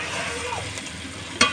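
Chicken leg pieces stir and slow-fry in an uncovered pan in a village-style kitchen, giving a steady close sizzle with a sharp clatter near the end.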